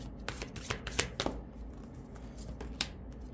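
Astrological tarot cards are shuffled up close, giving quick, crisp papery riffles and flicks in short bursts with no talking.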